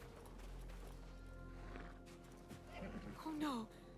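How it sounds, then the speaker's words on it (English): A horse in Assassin's Creed Mirage whinnies with a wavering, mournful neigh near the end, following hoof clops and game ambience while a person talks throughout. "that's a sad horse"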